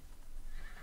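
A horse whinnies briefly in the video game Might and Magic VI, a rising high-pitched neigh over a dense, noisy background.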